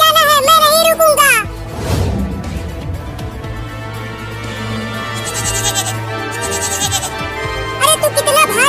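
A cartoon baby goat bleats in quick, wavering high cries at the start and again briefly at the end, with louder crashing movement and background music between, while voices speak.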